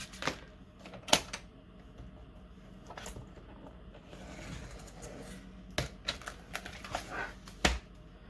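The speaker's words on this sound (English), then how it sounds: "And just cut it down like this." Scissors snip through planner paper as it is trimmed to size, giving a few sharp, close cutting clicks and crisp paper rustles spread through the clip with quieter handling between them.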